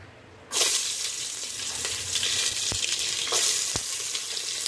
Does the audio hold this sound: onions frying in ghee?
yes